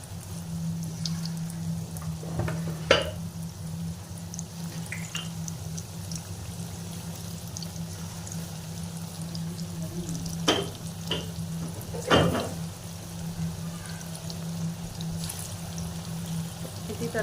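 Potato pakoras frying in hot oil in a wok, a steady soft sizzle throughout with a few brief louder clinks and pops as pieces go in, no talking.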